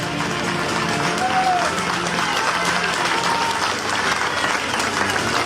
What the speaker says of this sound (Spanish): tributémosles un fuerte voto de aplausos.